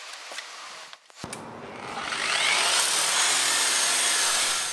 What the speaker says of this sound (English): I've found a disc sander is the most effective here because it follows the contour of the boards